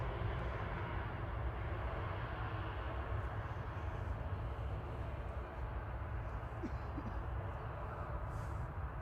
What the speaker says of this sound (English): lined up at Juliet 1 now, departing back to Dubai. This is A6EUN this evening with Emirates Flight 20, and of course, it's the beast, the A380